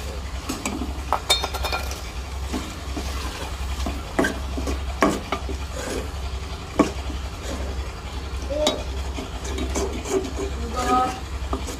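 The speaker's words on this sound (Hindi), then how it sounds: "अब हम इसमें डालते हैं पालक।" Spinach is stirred into fried mutton liver in a pan over a village-style fire, with scraping spoon strokes, clinks against the metal and a soft sizzle beneath a steady low hum.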